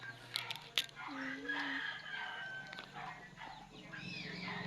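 Chickens cluck and a rooster crows at a moderate distance over outdoor ambience, with a few sharp knocks early and soft background noise throughout.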